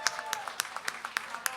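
Audience applause for a musician at a live music show, a short burst of scattered, uneven claps with a few sharp peaks, fairly close and moderate in level.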